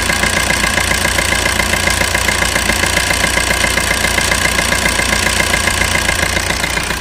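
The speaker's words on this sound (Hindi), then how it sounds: "कुछ इस तरह की इंजन की साउंड है जो कि ओरिजिनल है।" A 2012 Maruti Suzuki Swift VDi diesel engine idling close by, loud and steady with a rhythmic knocking clatter throughout and no talking.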